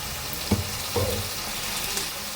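Ground green-chilli spice paste with turmeric frying in a pan, a soft steady sizzle with a couple of brief stirring knocks, close by and with no voices.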